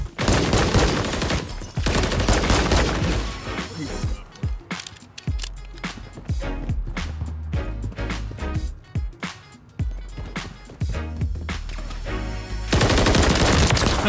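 Pistol fire in Call of Duty MW3 free-for-all, loud rapid shots coming in dense bursts and quick single cracks, with brief gaps and footsteps between volleys.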